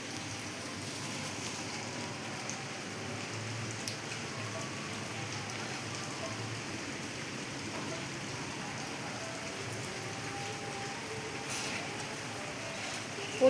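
Heavy rain pouring down outside a house during a downpour, with a dense, steady hiss of drops on surfaces that continues evenly throughout and no talking.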